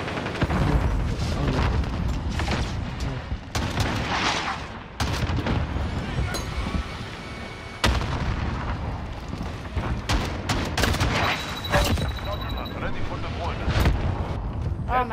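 Gunfire and booms in Call of Duty hardcore team deathmatch, repeated loud shots and blasts in irregular bursts, with a player talking over the action throughout.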